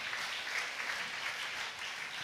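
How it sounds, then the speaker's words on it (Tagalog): A church congregation claps steadily together in a dense, continuous wash of applause with no voices over it, heard from the middle of the crowd. "Malakas na palakpak sa ating mahal na Panginoon."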